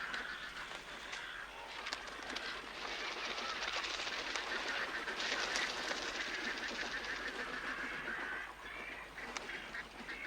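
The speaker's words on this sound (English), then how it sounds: "Thousands of water birds join in a frenzy of feeding and breeding" Thousands of water birds feeding and breeding in the Australian outback after rain, a dense, continuous din of honking and quacking calls at moderate distance, steady throughout without voices.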